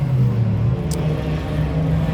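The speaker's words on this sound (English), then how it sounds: "cars are on track" Race cars circling a track at a racing event, heard as a steady, distant engine drone and low rumble with a faint higher whine that stays continuous throughout.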